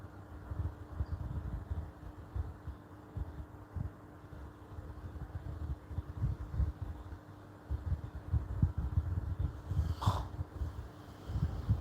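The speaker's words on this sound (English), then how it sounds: "See my baby, they snore." A sleeping baby snores softly in a steady rhythm of low, breathy pulses, close and quiet, with no talking.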